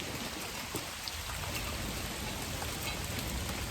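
Steady rain pours down outdoors in the late afternoon, a dense, even hiss of drops on surfaces that stays constant throughout, with no voices.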